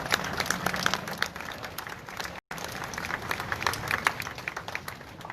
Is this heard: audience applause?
yes